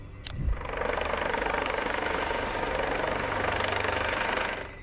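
A US Coast Guard helicopter over open ocean gives a steady, heavy rotor drone at a constant loud level throughout, with a short thump near the start and no voices.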